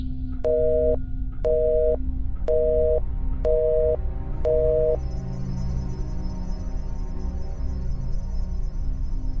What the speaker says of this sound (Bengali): কট করে ফোনটা রাখার শব্দ পেলাম, আর তারপরেই সব চুপ।